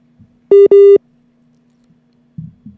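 Two loud, steady electronic telephone tones, a short one followed at once by a longer one, on a dropped call during a Mexican radio sports show, with a low hum underneath and faint noises afterward.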